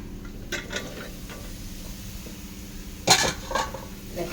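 Cooked pork going into a pan of browned chillies, with a quiet steady sizzle underneath, scattered soft clinks of a utensil against the pan and one louder scrape and clatter partway through.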